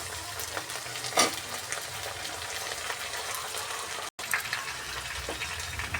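Eggplant pieces sizzling in a pan of hot oil for a Telugu-style curry, a steady frying hiss with occasional stirring clinks and one brief cut, no voices.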